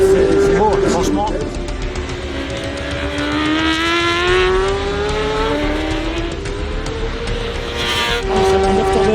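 Superbike motorcycles race in the FSBK French championship, their high-revving engines whining and shifting pitch as they pass, loud and continuous beneath excited race commentary.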